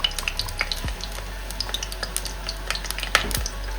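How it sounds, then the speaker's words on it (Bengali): Hilsa fish frying in mustard oil in a kadai, with a steady crackling sizzle and sharp spatter pops rising through it at an irregular pace, close and fairly loud. "মাছগুলোকে একটু ভাজবো।"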